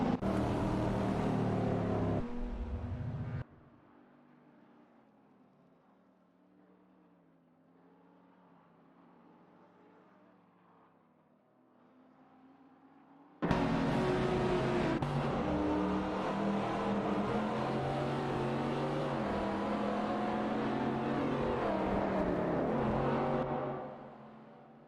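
Race cars roaring through a video game race: loud engine drone that drops to a distant, muffled hum for several seconds, then surges back to full volume before fading at the end.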